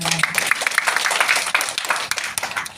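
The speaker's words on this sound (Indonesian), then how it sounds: "Tepuk tangan Bapak." An audience claps together in a dense burst of applause at a gathering, steady and fairly loud before tapering off.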